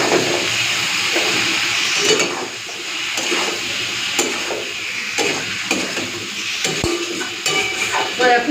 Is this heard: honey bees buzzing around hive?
no